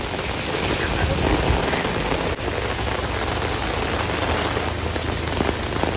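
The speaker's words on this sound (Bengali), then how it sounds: "কি দারুণ বৃষ্টি হচ্ছে, আমার তো বেশ ভালো লাগছে।" Heavy rain pours down outdoors, a dense, even roar of drops hitting surfaces that holds steady and loud for the whole stretch, with no voices.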